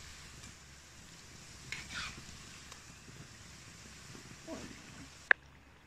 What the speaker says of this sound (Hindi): दोनों साइड से हम गुजिया को अच्छे से गोल्डन होने तक तल लेंगे